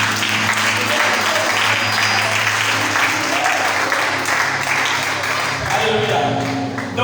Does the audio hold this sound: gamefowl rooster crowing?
no